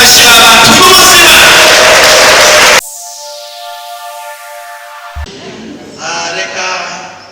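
Loud applause from a large crowd with some cheering, filling the first few seconds before cutting off abruptly into quieter sounds.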